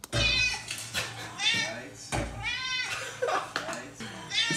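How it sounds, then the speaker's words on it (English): A cat's meows used as a recorded sample for music production, several drawn-out, rising and falling cries in close succession, loud and near, with no other sounds between them. "The meow of Lardon is here"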